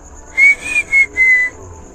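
Whistled tones heard in a cemetery: four short, clear whistle notes with small gaps between them, moderately loud over faint background hiss, with no talking.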